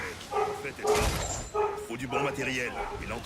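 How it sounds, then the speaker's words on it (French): A dog yips and whimpers in short bursts, mixed with a person talking over it at close range. "Excusez-moi pour le bruit du chien"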